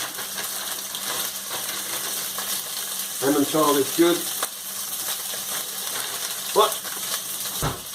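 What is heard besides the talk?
sausages sizzling in a pan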